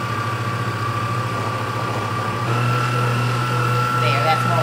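Electric mixer running steadily at medium speed through cake batter for an Italian cream cake, a constant motor whine with a slight rise in pitch partway through, close and loud throughout.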